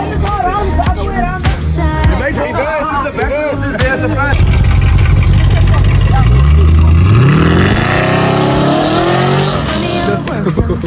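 A 2016 Audi A3 sedan with a stage 1 tune and downpipe runs on a dyno, its engine loud and close as the revs climb steeply in a long rising pull. Voices are heard near the start.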